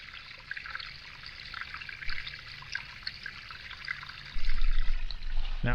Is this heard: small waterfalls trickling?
yes